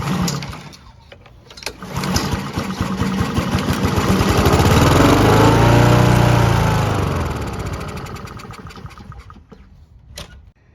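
A Honda HRR 216 gas lawn mower with a starting fault fires up, its small engine rising to a steady, loud run for several seconds before winding down, with clicks and rattles at the start and end.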